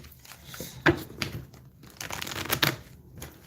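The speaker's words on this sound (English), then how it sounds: "Before I've even finished shuffling," Tarot cards being shuffled by hand, a run of soft papery riffles and crinkles with a few sharper snaps, close and moderately quiet, no talking over them.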